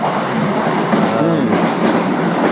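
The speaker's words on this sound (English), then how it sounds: "So there's a lot of trains going by, folks. It's right next to the Keihan line." Keihan line train passing close to an old house in Kyoto, a loud continuous rumble with rhythmic clickety-clack of wheels over rail joints and faint metallic squeal.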